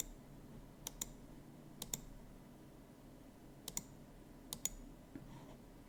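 A computer mouse clicks on a Power BI pie chart in a quiet room, with crisp paired clicks repeating at intervals of about a second and longer pauses between.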